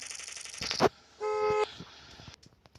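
A single steady electronic horn toot of about half a second, clear and close, set among other game sounds and clicks.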